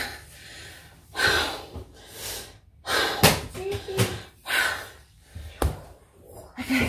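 Heavy, ragged breathing after a plank exercise: repeated loud gasping inhales and exhales in an uneven rhythm, close to the microphone, with no talking.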